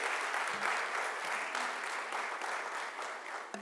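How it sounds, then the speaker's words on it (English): An audience applauds the Minister of State for External and Parliamentary Affairs at an Indian business gathering in Dubai, producing a dense, even wash of clapping that holds steady throughout. "Let's have a big round of applause."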